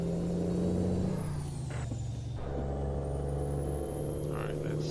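Heavy truck in American Truck Simulator downshifting, its engine rumbling steadily before the revs drop and settle into a lower gear, with a whining tone gliding down and a hiss of air; close and continuous.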